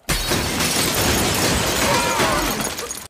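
A lamp shatters in a lamp shop in an animated cartoon, a loud sustained crash of breaking glass and debris lasting a few seconds before cutting off abruptly.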